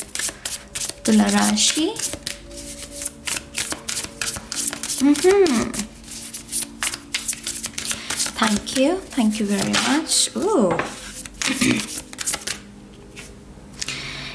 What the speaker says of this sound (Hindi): तो चलिए शफल कर लेते हैं तुला राशि लीब्रा साइन के लिए